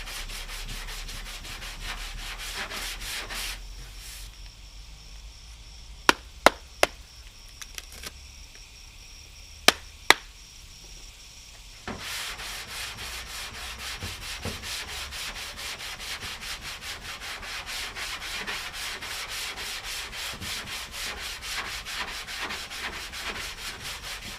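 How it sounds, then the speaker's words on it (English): Block sanding Bondo body filler on a 1977 Malibu Classic car body, a dense rhythmic rasping of strokes that stops midway for several sharp clicks, then resumes as a steady scrubbing, with no talk. "Decent Bondo here. Keep blocking it."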